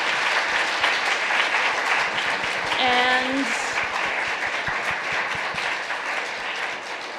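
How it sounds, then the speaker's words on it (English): An audience at the BSA 2024 annual meeting applauds its new scholars, sustained clapping filling the room evenly from start to end, with a brief voice speaking over it midway. "let's just start by applauding the work of our new scholars"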